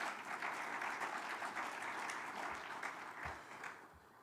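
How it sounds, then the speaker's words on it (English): Sustained audience applause for a speaker named Mr. Kapenda at a Namibia-EU business forum, a dense steady patter of many clapping hands filling the room for about four seconds, tapering slightly at the end with a few low thumps. "Another round of applause for Mr."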